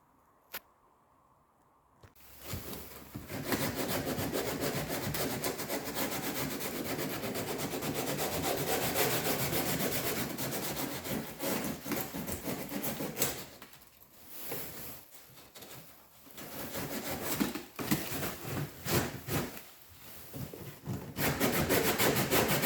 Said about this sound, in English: just want to run a little file through those mounting holes there